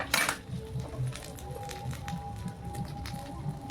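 A tomato and potato kulcha fries in a pan with a little oil, giving a soft, faint crackle and sizzle with scattered small pops close by.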